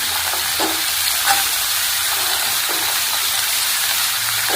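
Beans frying in a pan for Bengali-style mixed vegetables give a steady, loud, broadband sizzle throughout, with a few faint stirring scrapes and no talking.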